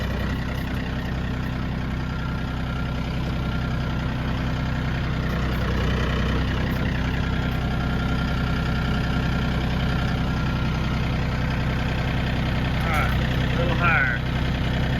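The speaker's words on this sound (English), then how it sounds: "Gotta find that happy medium so that the tractor can actually push the pile." Tractor engine labouring in low gear while pushing a thick compost pile, a steady heavy low rumble throughout with faint voices.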